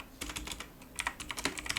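Quick, irregular keystrokes on a computer keyboard as a short command is typed, close and crisp with no talking.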